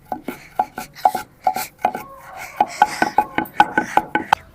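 Sorrel leaf (gongura) chutney pounded village-style in a stone mortar: a steady run of sharp, close thuds, about three per second, with a brief lull midway, and no talking.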